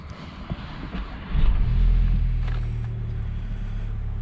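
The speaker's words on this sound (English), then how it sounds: "So I'm just turning the vehicle on." Skoda Karoq SE-L DSG engine starting via keyless start: a low rumble rises sharply at about one and a half seconds, then settles into a steady, close idle hum.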